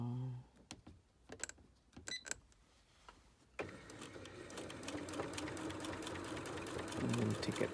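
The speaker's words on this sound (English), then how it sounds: "I'm going to backstitch, needle down," Sewing machine stitching boning into a bustier, ending with a backstitch and needle down: scattered clicks and handling at first, then a steady whirring motor run that builds and holds to the end, without speech.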